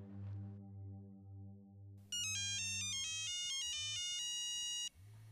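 A phone ringtone plays loudly and steadily as a call is placed, first a low repeating ring tone, then a bright electronic melody of stepped tones that cuts off near the end, with no talking.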